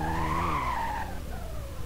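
Tires skid through a drift in the Roblox racing game, a loud sustained squeal that rises and then slowly falls, with a steady engine drone underneath throughout.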